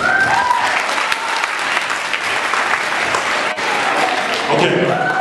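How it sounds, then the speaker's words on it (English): A crowd gives a round of applause for a group gathered on stage, a loud, close burst of clapping that stays dense throughout, with a few voices mixed in. "Give these guys a round of applause."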